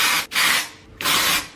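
Two short bursts of Batiste dry shampoo aerosol spraying into hair close by, separated by a brief pause, with no talking.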